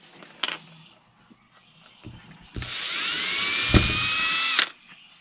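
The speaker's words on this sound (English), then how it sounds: "I'm going to drill a hole in the bottom of this case." A few light clicks and taps, then a power drill whirs steadily for about two seconds before stopping abruptly as it bores a hole in the bottom of a case.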